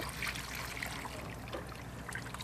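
Liquid fish waste pours into a rapid compost system on a suburban aquafarm, making a steady trickling, gurgling stream that runs for a couple of seconds, fairly close and moderately loud.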